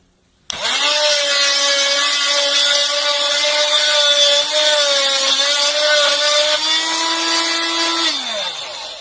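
An oscillating multitool fitted with a bimetal blade cuts through a 1.5 inch roofing nail, a loud sustained high buzzing whine that holds steady for about eight seconds before winding down.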